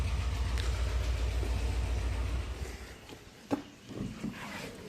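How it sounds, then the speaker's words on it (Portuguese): A 2011 Chevrolet Prisma's starter motor grinds as the car is cranked, giving a close, low, pulsing mechanical rumble for a couple of seconds that then cuts off, followed by a few quieter clunks. "A gente dá partida nesse carro. Esse carro ele arranha na partida."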